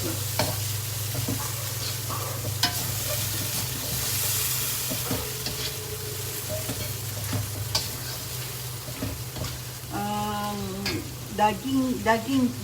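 Beef frying straight in a pan without prior boiling, with a steady sizzle and occasional stirring scrapes throughout; a voice speaks briefly near the end.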